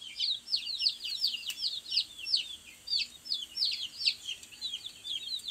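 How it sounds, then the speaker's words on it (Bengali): Chickens make repeated short, sharp calls in quick bursts close by, with brief pauses between clusters, over a quiet background and no talk. "এগুলো হচ্ছে মুরগি। তো এরা কি সুন্দর বসে আছে।"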